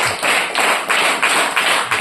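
A group at a Christian Christmas gathering claps in steady unison, loud, close rhythmic beats about four per second filling the whole stretch, with no voices over them.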